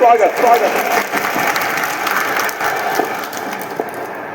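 A crowd applauds at the Garhwal Sabha Faridabad oath ceremony for a newly elected executive committee, steady loud clapping that follows a voice at the start and gradually softens.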